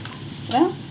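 Onions sauté in a hot pan for tomato thokku, giving a soft, steady sizzle. A voice cuts in briefly over it.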